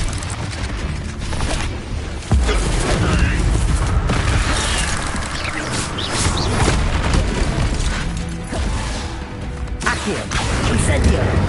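Confringo explosive spells in Hogwarts Legacy set off dense, loud booms and crashes in rapid succession amid constant combat clatter, with a voice shouting over the chaos.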